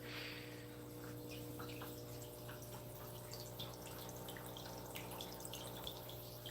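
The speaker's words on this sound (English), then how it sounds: "I'll let you hear what it sounds like in here, just the water." Water in a home fish tank babbles softly with faint scattered drips and trickles over a constant low electrical hum.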